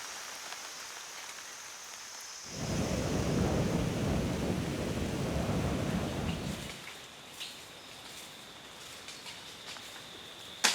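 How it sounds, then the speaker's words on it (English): A sudden heavy downpour in a forest roars in loud and steady for several seconds, then eases back to quieter patter and ambient noise. "The earth has been softened by the downpour, bringing termites to the surface."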